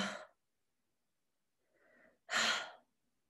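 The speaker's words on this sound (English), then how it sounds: "just lots of breathing, head down" Heavy, tired breathing close by: a long breathy exhale, a pause of silence, then a softer inhale followed by a strong sighing exhale, with no talking.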